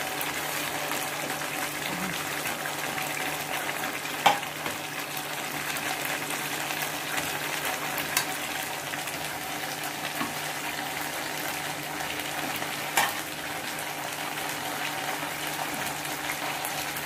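Fried boal fish added to hot curry oil in a pan sizzles and bubbles steadily throughout, with a few small clinks and bumps over the constant frying hiss.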